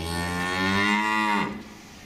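A person imitates a cow mooing, producing one long, loud, drawn-out moo with a falling pitch that ends after about a second and a half.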